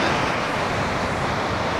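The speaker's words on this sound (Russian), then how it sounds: "Море продолжает волноваться, его качнул еще вчера." Sea waves rolling onto the beach at Anapa at sunset after a windy spell, a steady broadband wash of surf heard close and continuous with no voices.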